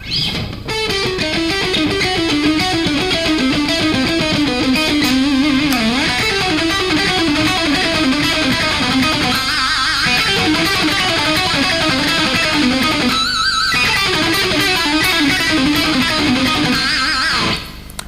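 An electric guitar runs an A blues Dorian lick at a fast tempo, notes tumbling in a dense continuous stream, loud and close throughout with only a couple of brief breaks.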